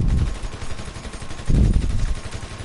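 Advanced rifle gunfire in GTA 5 crackles in two loud, rapid bursts, one at the start and a heavier one midway, with no talk over it.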